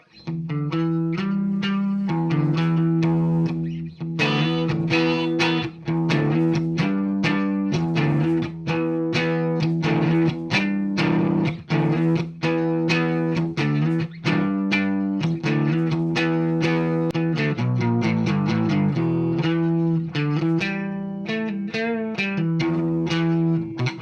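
A 2003 Gibson SG electric guitar on its middle pickup position plays a sustained, lightly driven riff with repeated picked chords and single notes, steady and close, with no voices.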